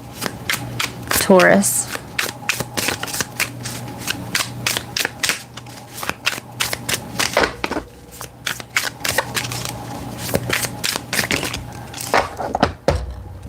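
Brand-new tarot cards being riffled and shuffled, with repeated crisp flapping bursts and snaps close by, while a person talks over them throughout.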